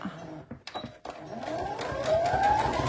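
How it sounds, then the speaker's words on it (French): A domestic sewing machine stitches fabric for a knitted pouch, starting with a few short bursts, then running in a steady, rising whir up close while someone speaks. "Et on va aller coudre tout le long, sur toute la longueur."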